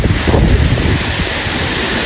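Strong wind of Typhoon Uwan roars in a dense, steady rush of broadband noise, gusting slightly louder early on, close to the microphone with no voices.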